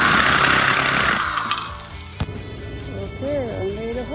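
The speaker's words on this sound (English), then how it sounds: "Drilling the second one" An electric drill bores a small hole into a planter, giving a loud broadband whirring burst that fades after about two seconds, followed by a voice and lighter handling noise.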